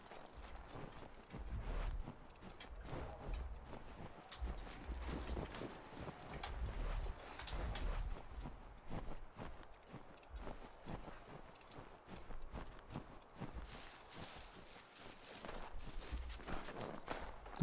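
Horse hooves clip-clop steadily in Assassin's Creed III on the streets of colonial Boston, a continuous walking rhythm of close hoofbeats that runs throughout with faint background ambience.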